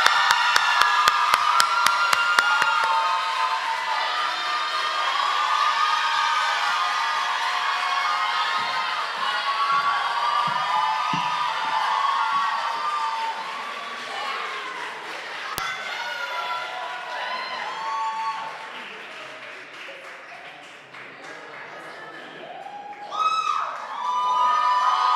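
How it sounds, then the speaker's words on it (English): A crowd at a senior awards ceremony applauds and cheers for a student, with a dense wash of clapping, shouts and whoops that slowly thins out and then flares up again near the end. "so let's just clap for her"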